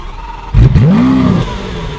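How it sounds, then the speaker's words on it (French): Lamborghini Aventador S Roadster engine firing up with a loud starter bark, then a rising-and-falling rev that settles into a deep, rumbling idle, close and alone. "Elle fait un très beau bruit quand même, cette voiture."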